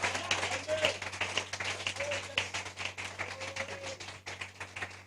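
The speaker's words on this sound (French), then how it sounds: "Donnez-lui une main d'acclamation de remise." A congregation at a church service claps steadily in a dense patter of applause, with voices calling out over it.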